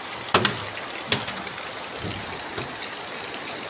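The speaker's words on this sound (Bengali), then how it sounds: "সো গাইস, বৃষ্টি এখন মূলত জোরে হচ্ছে," Heavy rain falls steadily in a village setting, a dense continuous hiss with a few louder splashes and drips standing out near the start.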